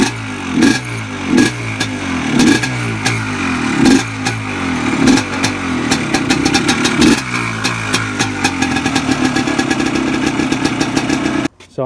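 A Yamaha Blaster quad engine is kicked over without choke, a few uneven coughs at first, then catches and settles into a steady, close, buzzing two-stroke run with rapid clattery pulses.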